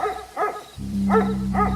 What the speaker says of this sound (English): his deep, loud bark started echoing through the woods